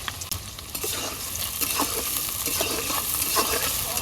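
Chopped garlic, onion and green chili fry in oil in a village kitchen, giving a loud continuous sizzle with light scraping of a spatula stirring through it, close and without talk.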